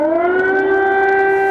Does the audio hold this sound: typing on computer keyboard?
no